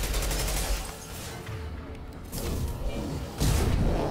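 Gunfire pours out of weapons in the video game Mass Effect 2, a dense, loud barrage of shots that runs without a break and swells into heavier bursts near the end.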